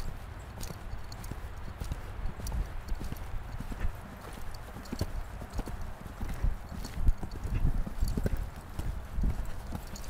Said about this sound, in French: Laisse-le galoper naturellement.